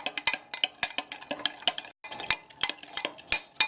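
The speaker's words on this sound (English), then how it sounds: "We'll just mix these things up until they dissolve" Sugar and table salt being stirred into a coleslaw dressing, a utensil clinking and scraping against a bowl in quick, steady strokes close by, with a short pause partway through and no talking.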